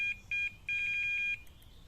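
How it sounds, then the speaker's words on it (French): A carp-fishing bite alarm at a pond beeps as the line is pulled: two short beeps, then a faster run of rapid beeps, fairly quiet against a soft outdoor background. "C'est rien, les bips, c'est moi qui tire sur l'autre ligne parce que je suis en train de m'emmêler avec."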